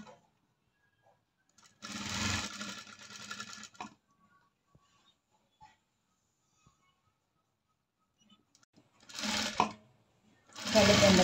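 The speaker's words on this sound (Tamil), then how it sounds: "கழுத்தை திருப்பி தையல் போடுறேங்க." A sewing machine stitches around the neck of a churidar top, with short loud whirring bursts of running separated by long quiet pauses.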